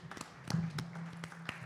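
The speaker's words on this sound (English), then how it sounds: "let's just give Shanda one more round of applause" At a special board meeting, an audience gives a sparse round of applause: a few scattered handclaps and taps, faint and spread out, with no clear talking.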